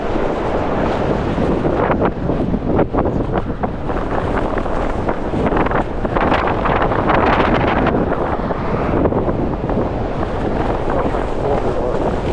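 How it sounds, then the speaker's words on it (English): Strong wind gusting up to 48 mph batters the microphone on a walk along a road, a loud, unbroken roaring buffet that swells and eases in waves throughout, with no voices. "Better walk into the wind than having to fight a crosswind."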